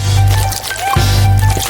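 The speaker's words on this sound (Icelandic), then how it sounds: "Helltu pönnukökudeginu varlega á pönnuna." Pancake batter poured into a hot frying pan gives a wet, sizzling squish that runs steadily for under two seconds, close and fairly loud, with no talking.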